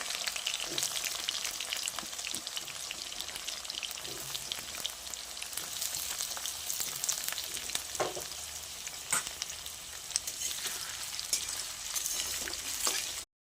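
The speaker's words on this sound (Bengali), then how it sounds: "তাতে আলুগুলো একটু লাল লাল করে ভেজে নেব" Potatoes fry in oil with cumin, bay leaf and chopped onion, a steady bright sizzle running throughout with occasional soft scrapes and stirring clicks, close and even in level.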